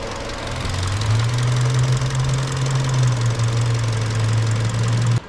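A used engine fitted to a 2011 Mazda CX7 idles with a steady, close rumble and a low drone that holds even throughout before cutting off abruptly at the end.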